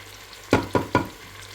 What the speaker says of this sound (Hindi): अब मैं इसमें गोश्त भी डालूँगी तो इसको भूनूँगी अच्छी तरह